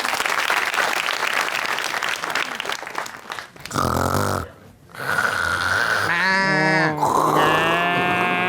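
An audience at a comedy show breaks into loud, dense applause that fills the first few seconds. A grunting, snoring-like voice and tonal vocal sounds from the stage follow it.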